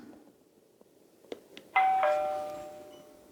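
A Tapo doorbell chime sounds after being plugged in and paired, giving a clear two-tone ding-dong that rings out and fades slowly in a quiet room, preceded by a few soft clicks.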